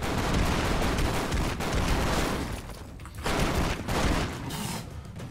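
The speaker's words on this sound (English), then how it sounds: "I wonder what this gunfire is." Dense, continuous gunfire in a shooter video game, loud rapid shots and booms crowding together with short dips in intensity.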